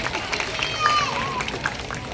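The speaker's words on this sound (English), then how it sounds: "Let's give a round of applause to Bulan." Applause from a seated audience at a night safari animal show, honouring Bulan the owl after a flight; steady mid-level clapping with crowd murmur and a voice talking over it for a couple of seconds.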